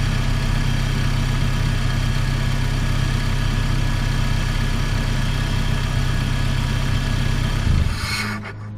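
A car engine idles steadily and loudly at close range during an alternator test, a constant low rumble that cuts off abruptly near the end as the engine is shut down.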